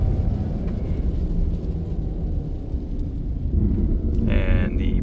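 A truck on all-terrain tires accelerates hard in four-wheel drive across snow, a loud, continuous low engine and tire rumble that holds steady, with a brighter hiss joining near the end.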